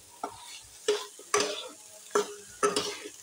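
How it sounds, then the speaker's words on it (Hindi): Leftover roti snack with paneer stirred in a pan, with five distinct scraping and clattering strokes at an uneven pace over a soft sizzle, close and moderately loud. "इसको ऐसे ही चलाते रहना है।"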